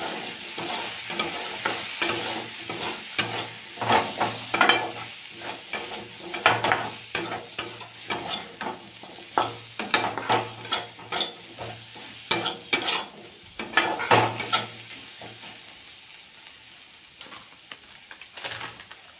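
Cumin and coriander seeds fry in a pan under a constant sizzle, stirred in busy, irregular scraping and tapping strokes that thin out toward the end, with no voices.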